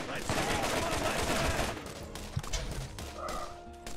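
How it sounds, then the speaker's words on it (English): A big gun fires repeatedly in the video game Borderlands, with loud, dense bursts of shots crowding together and a player's voice talking now and then underneath. "Let's go back to the big gun for a bit"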